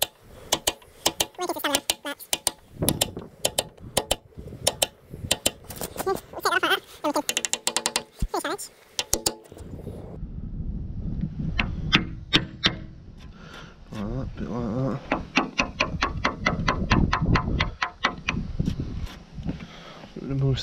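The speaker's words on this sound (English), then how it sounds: "we hold the chisel at a slight sort of 45 degree angle roughly, and we just chop it" A 25mm chisel is struck to chop a hinge recess in a wooden door, giving many sharp percussive knocks in irregular clusters, then a denser run of rapid taps, close and fairly loud.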